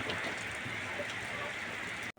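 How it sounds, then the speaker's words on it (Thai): Heavy rain pours down in Wang Nam Khiao, making a steady dense hiss on surfaces close by, unbroken until a brief cut at the very end. "ฝนก็ตกมันพี่น้อง"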